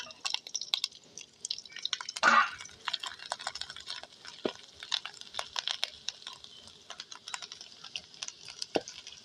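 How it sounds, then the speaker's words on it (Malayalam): Crushed, squeezed ginger frying in oil for Kerala ginger curry, a faint, steady crackle of quick, irregular pops and sizzles. "ഈ ഇഞ്ചി ചതച്ച് പിഴിഞ്ഞത് നമ്മളിത് ഈ എണ്ണയുടെ അകത്തിട്ട് മൂപ്പിക്കണം"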